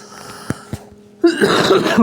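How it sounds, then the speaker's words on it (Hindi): Two short sharp coughs from one man, close and loud, followed by a denser burst of coughing or throat noise that carries to the end of the short stretch. "सॉरी यार, खांसी हो गई"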